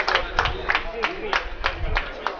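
Scattered clapping from a small audience at a charity fight weigh-in, with fairly regular claps close by and a voice talking over them.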